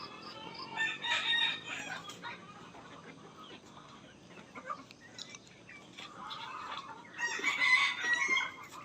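Rhode Island Red chickens on a small farm cluck steadily, with loud bursts of crowing near the start and again near the end.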